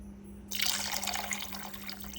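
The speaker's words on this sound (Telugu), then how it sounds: "ఇక్కడ వాటర్ యాడ్ చేస్తున్నా నేను" Water is poured into a pan to cook vermicelli, a sudden close splashing pour after a quiet moment, with a steady low hum underneath.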